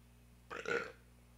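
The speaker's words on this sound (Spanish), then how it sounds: "Perdón, voy a eructar." A man lets out a single short, guttural burp, close to the mic, against quiet background hum.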